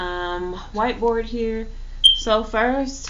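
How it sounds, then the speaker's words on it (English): A single short high electronic chirp from a smoke alarm with a low battery sounds once in the middle, brief and clear over a person talking steadily. "My fire alarm battery needs to be changed."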